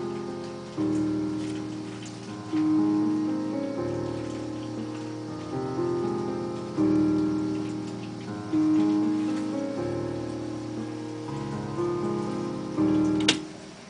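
A grand piano patch plays a slow, gentle melody in the style of a Hogwarts theme, sustained chords shifting every couple of seconds with a soft tick underneath, ending on a brief bright click.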